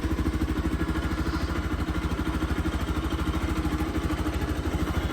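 A motorcycle left unused for about a month idles after a cold start, its engine thumping in a fast, even pulse with a clattery mechanical edge, close and steady throughout.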